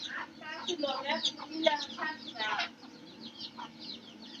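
Backyard chickens cluck and chatter close by in a short burst of rapid calls that fades into softer clucks, over a steady low background hum.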